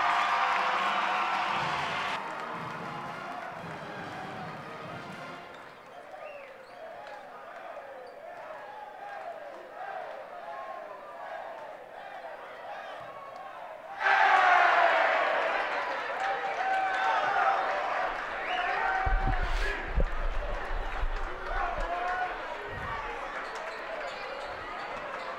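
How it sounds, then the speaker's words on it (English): Crowd noise fills a gym at a 2016 high school boys basketball game between Shawnee Mission Northwest and Shawnee Mission North, swelling into a louder roar partway through while an announcer talks over it. "As the crowd is in full swing tonight."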